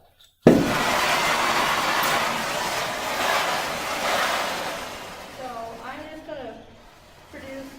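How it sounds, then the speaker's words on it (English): Carburizing oxy-fuel welding torch flame roaring as a steady broadband hiss after an abrupt ignition, fading slightly while someone talks over it near the end. "Just a nice carburizing flame right now, just to help show you."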